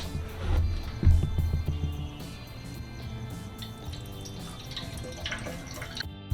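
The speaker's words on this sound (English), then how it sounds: "There happens to be a spout here, so we're going to go ahead and drop water in it." Water drips and splashes into a spout on an aluminium part welded with Harbor Freight aluminium welding rods, heard as irregular close, soft plops and trickles, strongest near the start and then settling into a quieter steady dribble.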